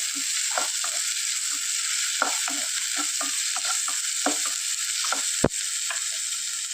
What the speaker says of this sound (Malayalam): അത് ചേർത്ത് കൊടുക്കുക അത് നന്നായിട്ടൊന്ന് ഇളക്കി ഒഴിപ്പിക്കുക